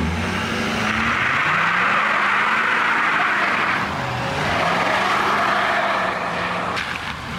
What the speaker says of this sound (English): We gotta do one Bernie for the boys